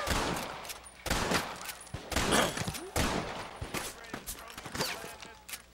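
Gunfire crackles in Red Dead Redemption hardcore free-roam multiplayer, repeated sharp shots in uneven bursts at moderate distance amid game ambience.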